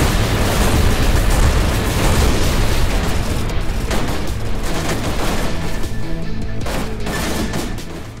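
In the space-combat video game Everspace 2, a turret blows apart in a loud, dense barrage of booms and crackling bursts that rumbles on for several seconds before easing slightly at the end.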